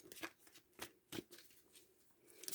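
Tarot cards being handled and shuffled, a series of soft riffling bursts and taps at an uneven rhythm, quiet and close with no talking.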